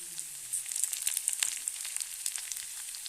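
Curry leaves drop into hot oil in a pan for an eggplant and tomato dish and crackle at once, a steady close sizzle with rapid spitting pops running the whole time and no voices.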